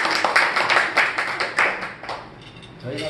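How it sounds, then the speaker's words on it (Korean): Applause for the hosts at a gathering in Trinidad and Tobago: a few seconds of dense hand-clapping from a small group, fairly close, with voices mixed in and the clapping thinning toward the end. "다시 한번 뜨거운 박수"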